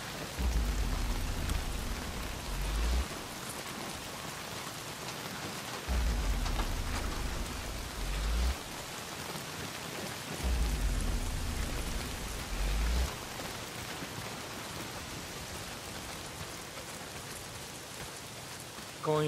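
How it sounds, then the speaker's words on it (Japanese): Heavy rain and rolling thunder in the video game Days Gone, a constant downpour hiss with three long, loud low rumbles of thunder spaced a few seconds apart. "この雨じゃきついだろう。"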